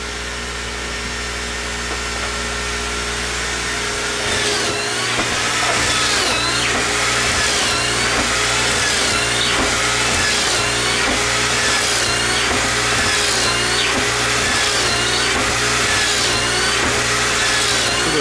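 A pocket-hole drill whirs through a run of holes in loud, rhythmic repeated bursts while a dust extraction hose roars continuously beneath, the whole sound close and machine-dominated.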